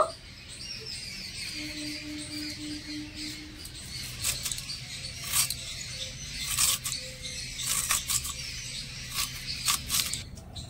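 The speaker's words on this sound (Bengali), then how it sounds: "সবগুলো আম আমি ঠিক এভাবে করে ঝুরি ঝুরি করে কেটে নেব" Raw green mango being cut into thin shreds for pickle, with steady, close scraping and crisp cutting strokes repeating over a light background hum, no talk.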